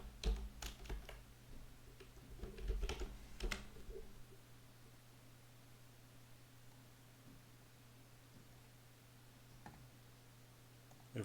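Quick bursts of keys tapped on a computer keyboard while entering a file name, a cluster of clicks early on then quiet hiss with a few stray taps.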